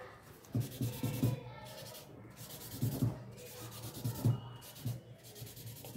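Tissue paper rubbing over a pencil drawing to blend the shading, soft close scrubbing strokes in short bursts with pauses, faint and quiet.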